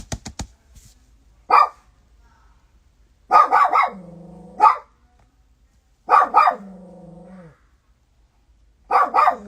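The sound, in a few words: dog barking indoors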